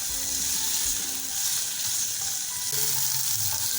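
Okra being fried in a pan for bhindi gosht gives a loud, continuous sizzle with a low rumble underneath, steady throughout and without talk.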